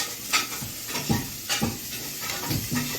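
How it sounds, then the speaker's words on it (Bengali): Mashed sweet potato being mixed into semolina by hand, soft squelching and scraping strokes repeating at an uneven pace, faint and close, with a light hiss underneath and no speech. "এখন আমি রাঙা আলুটাকে দিয়ে সুজির সঙ্গে মেশাবো"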